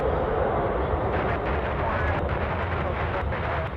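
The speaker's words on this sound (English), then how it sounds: "That 737 cleared for takeoff." A Boeing 737 on its takeoff run at Anchorage airport gives a steady, loud, broadband jet roar that holds unbroken throughout, with no pause or change in level.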